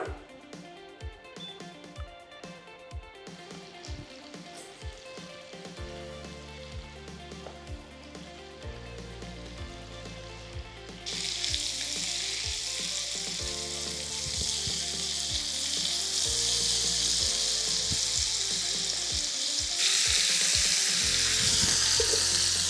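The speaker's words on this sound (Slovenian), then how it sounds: "Ker je maslo občutljiva maščoba, bom dodala takoj prsi in jih rahlo opekla." Steady sizzling of chicken breasts frying in butter, starting softer then swelling into a loud, continuous crackle with occasional stirring, no voices.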